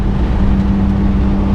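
Toyota Dyna truck engine held at full throttle, pinging, giving a loud, steady drone with a sustained low tone throughout.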